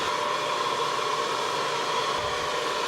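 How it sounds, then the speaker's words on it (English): A hair dryer blowing steadily at close range, a constant airy whoosh with a faint whine, no talking. "The most important tool in your arsenal is a handy dandy hair dryer."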